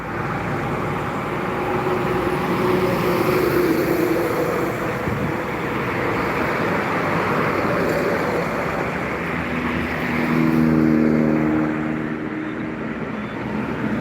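Buses, trucks and other traffic passing on the Jalan Lintas Timur highway at kilometer 12 in Palembang, South Sumatra, a continuous roadside roar that swells as heavy vehicles go by, with an engine drone rising near the end.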